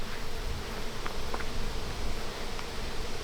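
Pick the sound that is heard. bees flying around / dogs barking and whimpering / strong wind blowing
bees flying around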